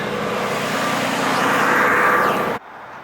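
A Nissan Skyline R33 engine idles steadily after a cold start following about a month of sitting, a broad continuous rumble that cuts off abruptly near the end.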